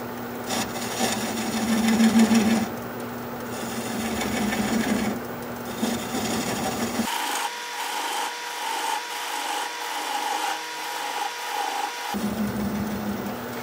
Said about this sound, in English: Now I'm going to switch to a 3/8 inch sweatback bowl gouge, and I'm going to turn the speed down to about 400 RPM.